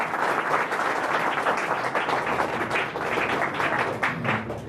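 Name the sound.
audience applause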